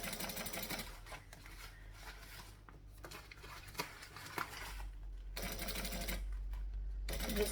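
A sewing machine stitches an accent panel on a Derica handbag, a steady close mechanical whir running through most of the stretch with brief pauses and small handling clicks, no voices.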